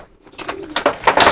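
A pigeon coos at close range, giving a few soft, throaty pulses that rise in quick succession.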